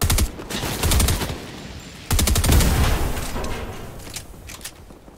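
Rapid automatic gunfire from the video game Fortnite, heard in two loud, dense bursts of repeated shots that fade into quieter distant firing.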